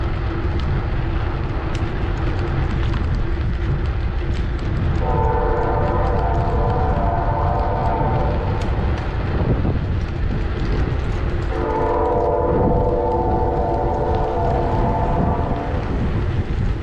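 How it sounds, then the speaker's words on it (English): A train approaches near a rural intersection north of Gainesville, Texas, sounding two long, steady horn blasts at moderate distance over constant wind and road noise from a moving bicycle. "Sounds like we've got a train coming"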